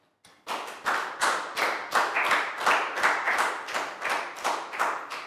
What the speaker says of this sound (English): High five and a big round of applause for Pat